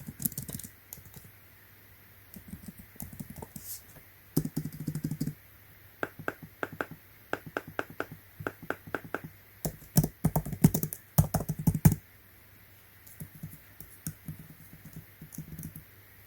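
Fingers tap keys on an Apple Magic Keyboard attached to an iPad Air, close, crisp clicks in irregular bursts and single presses with short pauses.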